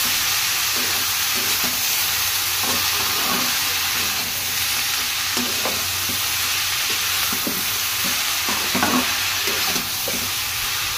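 Finely chopped bottle gourd frying in a pan, a steady close sizzle with soft repeated scrapes and taps as it is turned and stirred over and over.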